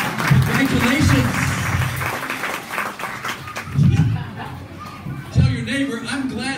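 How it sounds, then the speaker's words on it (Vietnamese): An audience at a motivational talk applauds in a dense, steady patter, with a speaker's voice breaking through loudly at intervals. "Give yourself a hand clap."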